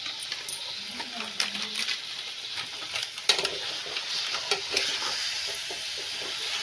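Masala paste of ginger, garlic and onion with chicken curry powder sizzles in hot oil while a spoon stirs it, with soft scraping and occasional clinks against the pan close by.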